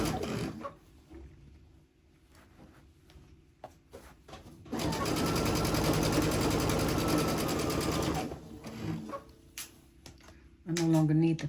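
A sewing machine stitches T-shirt quilt blocks with a 1/4 inch seam allowance, running in a steady whirring burst of about three seconds between quieter handling noises, with a shorter burst at the end and a voice speaking nearby.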